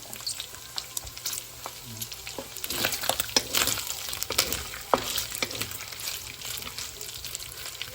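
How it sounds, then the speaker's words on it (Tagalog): Meat sizzling and frying in its own rendered fat in a pan after boiling, a steady close crackle and spatter with occasional stirring, no voices. "Pirito-pirito lang natin siya"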